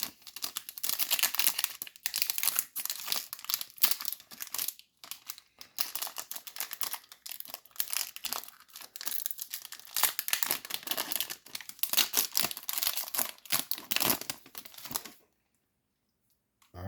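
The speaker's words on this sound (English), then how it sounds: "Alright, we're going to open 3 today, I think." Star Wars Kenobi trading card packs being torn open, with close, crisp foil wrapper crinkling and tearing in bursts for about fifteen seconds before falling silent, no talk.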